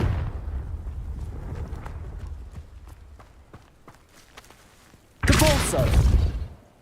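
A Confringo spell explosion in Hogwarts Legacy bursts out loud and sudden after quieter scattered clicks and footsteps, its rumble fading over about a second.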